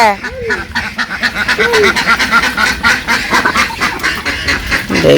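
Ducks at their coop quack loudly and close by in several separate calls, mixed with talking voices and general farmyard bustle.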